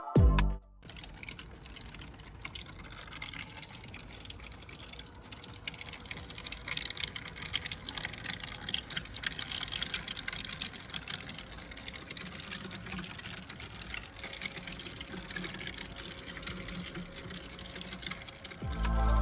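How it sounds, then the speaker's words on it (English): Steady rushing and gurgling of coolant flowing through the cooling system of an AWD E90 BMW 328xi after water pump and thermostat replacement, continuous and moderately loud, with a faint engine hum underneath. "you start hearing what sounds like fluid running through the cooling system"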